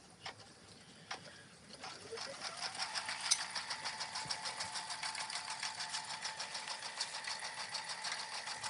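An embroidery machine sews placement stitches on stabilizer in a 4x4 hoop. A few faint clicks come first, then a steady, rapid, ticking run of stitches, fairly close and alone.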